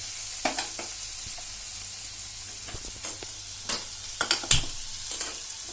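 Shallow-fried okra sizzling in a pan as it is stirred, a soft continuous fry hiss broken by scattered scraping and clinking stir strokes, several sharper bursts near the end.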